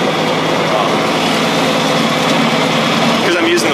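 A John Deere 4020 tractor engine runs steadily and loudly up close, its drone wavering slightly as the machine jolts over bumps on uneven ground.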